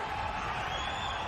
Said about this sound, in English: Crowd's exploding here.